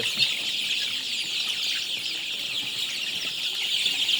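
A crowded flock of chickens clucks and chirps continuously while eating feed, many birds at once jostling in a busy, steady chatter close by.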